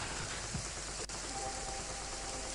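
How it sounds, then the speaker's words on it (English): Rain falling outdoors in the video game Wrongworld, a steady, loud hiss of drops with a faint thud or two and no talking. "we're outside and it's raining"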